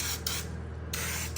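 A budget aerosol paint can sprays a Blazer truck body in steady hissing bursts with two brief pauses, quiet and close.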